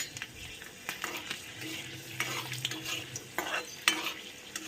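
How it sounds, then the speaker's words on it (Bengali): Garlic fries in oil in a pan, giving a soft, steady sizzle near at hand, broken by a few clinks and scrapes of a utensil stirring against the metal. "রসুন আগে তেলে দিয়ে দেবো"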